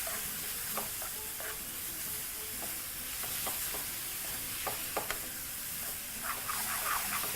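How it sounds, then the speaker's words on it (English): Farmers beans and pasta are stirred through in a pan with a slotted spoon over low heat, a steady soft sizzle with scattered scraping clicks of the spoon against the pan, close and continuous with no talk. "using a slotted spoon, proceed to mix everything through"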